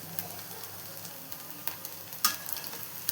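Sago vadas (sabudana fritters) fry in a pan of hot oil, giving a soft steady sizzle with faint crackles and a few sharper pops and clinks as they are turned.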